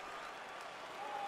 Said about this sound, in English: Capacity crowd on hand.